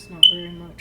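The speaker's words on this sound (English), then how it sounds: "Sorry about the beeping." A sharp, high electronic beep chirps once from a smoke alarm while someone talks nearby, the tone lingering briefly before fading.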